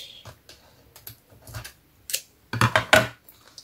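Paper being cut with scissors while making a junk journal, a few short crisp snips and rustles up close, the louder cluster of cuts coming near the end.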